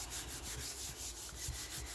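Paper being rubbed by hand onto a Gelli printing plate, a soft, close, rhythmic scrubbing with regular strokes, quiet and alone.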